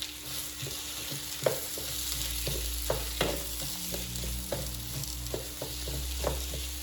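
Onions sautéing in a pan on a medium hob setting, a steady frying sizzle with intermittent clinks and scrapes of stirring.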